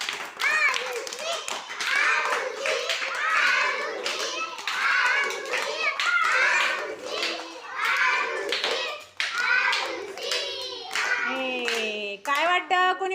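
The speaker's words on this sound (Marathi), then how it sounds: "त्यांच्यासाठी टाळ्या वाजवा" Children clap their hands in a classroom, an uneven patter of many small hands running on and off under continuous talk from an adult and kids' voices.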